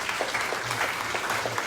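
A church congregation clapping together during a morning service, a brief, even burst of many hands applauding at moderate distance.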